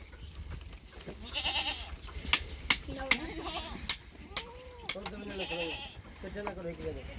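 Goats at a goat farm in Sujawal bleat repeatedly, several wavering calls spread through the scene, with sharp knocks in between and someone talking over them.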